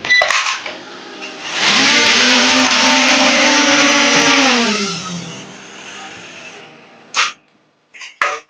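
A small drone flown fast indoors, its rotors rising to a loud, sustained whine that holds for a few seconds and then fades, followed by a few short knocks.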